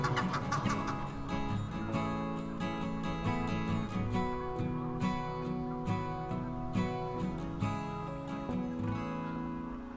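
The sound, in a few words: Egyptian geese calling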